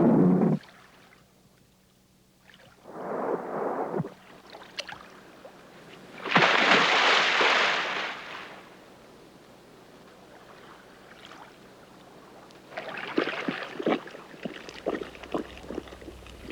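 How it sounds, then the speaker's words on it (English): A rubber Zodiac boat's outboard motor churns through thick Totora reeds in bursts of rushing, splashing water separated by quieter gaps, with a longer surge in the middle and a choppier stretch toward the end. "The rubber Zodiac can swim over the reeds, but the outboard small propeller becomes badly snarled."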